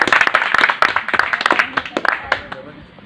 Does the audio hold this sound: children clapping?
yes